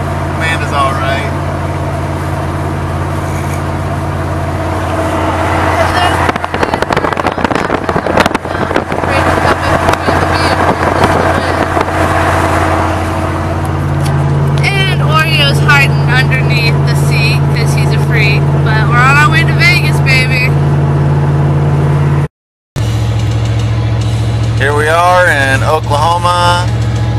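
Car driving down the road heard from inside, a steady loud rumble of road and engine noise with wind buffeting throughout, a short cut near the end, and people talking over it.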